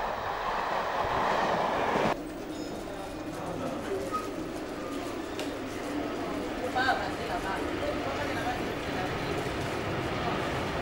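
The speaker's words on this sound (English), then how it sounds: "On the fast tracks, an Anglia liveried Class 86 loco speeds an express" An Anglia-liveried Class 86 electric locomotive hauling an express train on the fast tracks, passing as a steady rolling rumble with faint clicking wheel noise, while birds call softly in the background.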